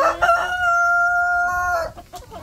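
Rhode Island chicken rooster in a crowded coop crowing once, a loud, close, sustained cock-a-doodle-doo with short clucks before and after.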